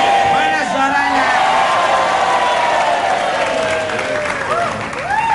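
Crowd applauding and cheering at a lively event, dense clapping with whoops and shouts running throughout, loud and close, while a voice talks over the noise.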